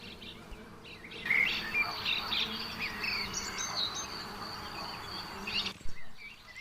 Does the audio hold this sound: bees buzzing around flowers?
yes